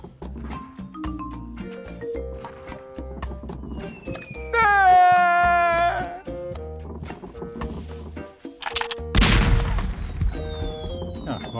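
A cannon fires in the adventure game The Curse of Monkey Island, a single heavy boom bursting out late, amid game music, chimes and other sound effects.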